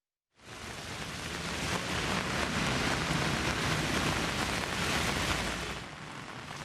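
Heavy rain driven by strong wind in Kudus, Central Java, roars as a dense, steady hiss that starts suddenly, holds loud and constant for several seconds, then eases slightly, with no talking.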